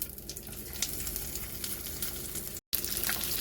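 Whole cumin seeds and asafoetida sizzle steadily in hot oil for baingan masala, a continuous close frying crackle with brief pops, cut by a momentary dropout near the end.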